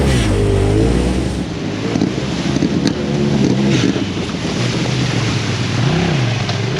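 A stock 2017 Razor Turbo side-by-side UTV with about 11,000 km drives on a mud trail ride, its engine droning loudly and rising and falling in pitch under heavy wind rush, with no one talking.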